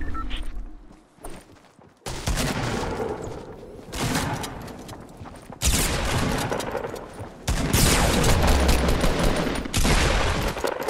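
Gunfire in the Fortnite battle royale game, heard as loud bursts of shots in several clusters after a quieter opening, with rapid rattling volleys toward the end and no talk.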